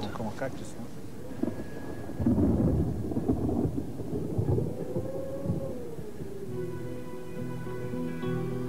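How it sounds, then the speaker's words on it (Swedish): Thunder from a storm closing in on a high Andean mountain summit, a low rolling rumble that swells loud through the middle and then fades into a steady murmur, with no talking. "Så blir vädret sämre, åskan börjar gå och man lämnar tillfälligt toppen."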